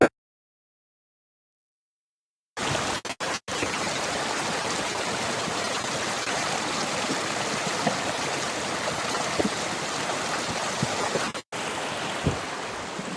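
A stream in Utah runs steadily after a short silence, a close, even rush and babble of water with brief dropouts and no talking.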